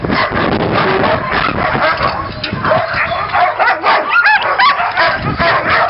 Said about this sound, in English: the reason the dogs are all barking and yapping still